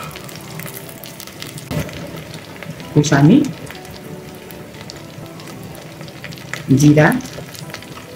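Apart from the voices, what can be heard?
mutton frying with onion, ginger, garlic and spices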